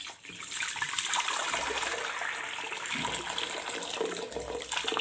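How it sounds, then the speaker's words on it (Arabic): About two liters of hot water gush steadily into a pickling container up close, a continuous rushing pour with no talking. "هحط لترين ميه سخنه"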